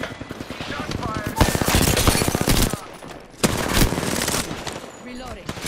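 Loud bursts of automatic weapon fire in a shooter game, sustained rapid rattling broken by a short pause before another stretch of shots, with speech mixed in.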